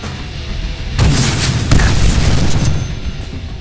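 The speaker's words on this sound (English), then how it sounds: "Wow, he just blew right up." An enemy blowing up in the Deadpool PC game: a loud, close explosion bursts after a low rumble, quickly followed by a second crack, then a dense roaring debris wash that slowly eases.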